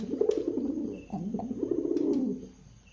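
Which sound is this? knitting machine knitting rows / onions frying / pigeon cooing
pigeon cooing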